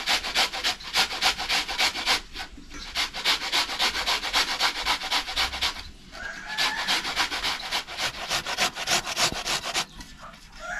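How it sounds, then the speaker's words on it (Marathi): An ash gourd (winter melon) is grated by hand, giving a steady run of fast rhythmic rasping strokes, close and continuous with brief pauses, and no talking. "आता हा किसून घ्यायचा."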